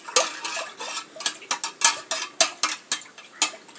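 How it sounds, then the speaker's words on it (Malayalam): A utensil scrapes and clatters around a pan of food frying in oil, about a dozen sharp, close strokes in a brisk, uneven rhythm, with no talking. "എല്ലാം തണിച്ച എണ്ണയിലിട്ട് ഇങ്ങനെ വറുത്തിട്ടുണ്ട് ഗൈസ്. നമ്മളിങ്ങനെ ഇളക്കി കൊടുക്കണം"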